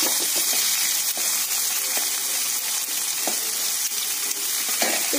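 Sliced onion frying in hot oil in a kadai with dried red chillies and a few cumin seeds, a steady bright sizzle with occasional clinks and scrapes of stirring.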